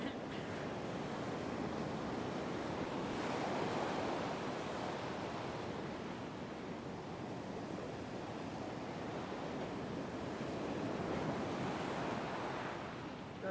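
Powerful ocean surf washing and breaking on a fishing beach, a continuous loud roar of waves with gentle surges, wind noise mixed in.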